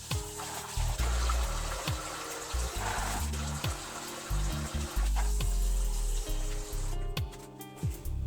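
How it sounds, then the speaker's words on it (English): Water poured off soaked peas and running as they are rinsed, with a steady splashing trickle and clattering pot or bowl knocks throughout. "I'm gonna throw off this water and I am going to wash it twice and then put it to cook"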